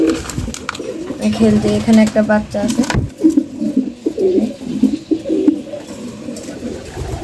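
Pet doves cooing in low, throaty rolls close by, broken up by a person talking over them and a brief rustling clatter partway through.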